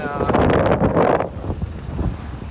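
A J160 sailboat under sail on the North Atlantic, with loud gusting wind buffeting the microphone and rushing water and waves around the hull, strongest in the first half and easing to a lower steady rush.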